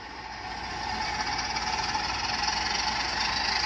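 A KR Models BR 10100 Fell model diesel locomotive pulling a reefer train runs at half throttle, a steady whirring motor hum with faint rail rumble that grows slightly louder over a few seconds.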